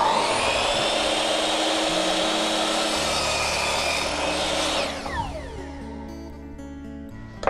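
A power saw cuts steadily through timber at a 45-degree angle, a loud continuous whine with a sustained grinding roar for about five seconds before it winds down and the blade spins to a stop.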